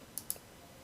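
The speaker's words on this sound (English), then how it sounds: "Let me click on that." Two quick, faint computer mouse clicks land close together in a quiet room, followed by silence.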